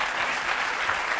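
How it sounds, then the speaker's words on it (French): Studio audience applauds on a French makeover TV show, a dense, steady wash of clapping at even loudness throughout the short stretch. "Je crois qu'on peut applaudir l'équipe de Franck Provost."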